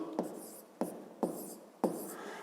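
Pen strokes scratch out a maths solution on paper in four short bursts, each with a sharp attack and brief scrape, close and quiet.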